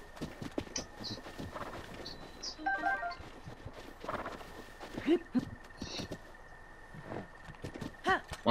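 Horse hooves clip-clop in a steady, fairly close rhythm as the horse moves through the open world of the video game Zelda: Breath of the Wild, with light bird chirps in the background.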